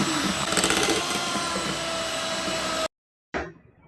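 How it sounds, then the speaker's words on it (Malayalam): An electric hand mixer whirs steadily and loudly while beating brownie batter mixed with melted butter and chocolate, then cuts out briefly before a short restart. "ഇനി നമ്മൾ നേരത്തെ മെൽറ്റ് ചെയ്ത ബട്ടർ ചോക്ലേറ്റ് മിക്സ് ഇതിൽ ആഡ് ചെയ്തിട്ട് ഒന്നുകൂടി ബീറ്റ് ചെയ്തെടുക്കാം."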